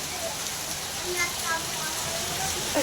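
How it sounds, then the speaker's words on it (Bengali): Rain falls steadily outdoors while village cooks prepare a dish of jackfruit, giving a soft, even hiss of drops that continues throughout at a moderate, slightly distant level. "এখনো বৃষ্টি পড়ে যাচ্ছে, সেই সঙ্গে আমাদের রান্না চলছে।"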